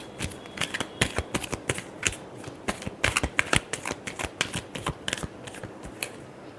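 Tarot cards being shuffled by hand, with a rapid, irregular run of crisp riffling slaps and flicks close to the listener and no talk.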